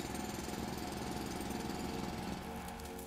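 A drill in a video game works into mushrooms, giving a steady rattling mechanical grind with a constant low hum, moderately faint and unbroken, tailing off slightly at the end, with no voices.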